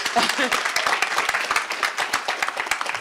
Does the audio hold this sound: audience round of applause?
yes